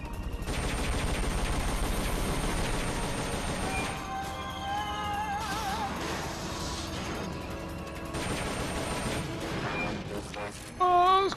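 Rifle gunfire in Metal Gear Solid Peace Walker, with a dense burst of game shots and crashes over layered music and effects, ending in a louder burst near the end.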